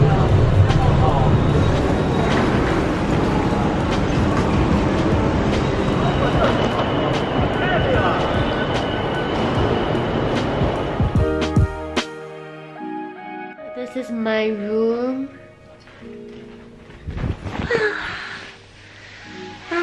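Steady rumbling ride noise on an airport train in Beijing with a broad roar for about eleven seconds, then it drops to quieter hum with chimes and a recorded announcement voice.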